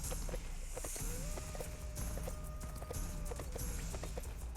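Horse hooves clip-clopping steadily at a walking pace as a mount carries its rider through a Sacred 2 video game world, with a thin sustained tone running alongside and busy game ambience underneath.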